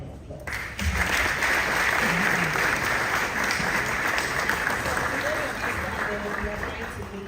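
An audience at a live investment event gives Mr. Amoabeng a round of applause, dense clapping starting abruptly and continuing steadily at full strength, slowly easing toward the end, with faint voices underneath.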